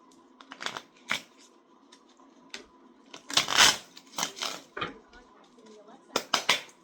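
Tarot cards are shuffled by hand in quick riffling bursts, several separate clusters of crisp flutters and slaps spread across the moment, with a quiet voice murmuring in between.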